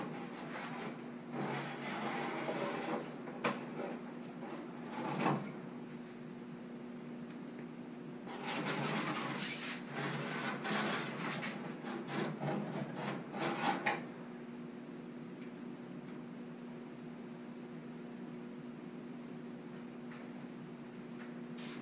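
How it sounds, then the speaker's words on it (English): Wax being scraped from a cooled board, tip to tail, in repeated bursts of scratchy strokes over a steady background hum, with quieter gaps between passes. "Once your board is cooled, scrape from tip to tail"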